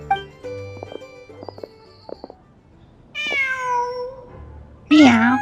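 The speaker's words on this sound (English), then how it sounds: "Meow. Huh. Oh. Just a cat." Cat meows in the video game Genshin Impact, a drawn-out meow followed by a louder, higher one, over soft game music and footsteps-like ticks.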